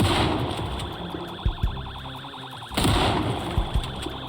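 A battery-powered siren blares in the Project Zomboid video game, a repeating warbling wail running steadily, punctuated by a few sharp thumps and a sudden louder restart midway.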